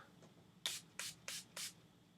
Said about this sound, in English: I'm going to take NYX Dewy Finish Setting Spray and just put a little bit of that on.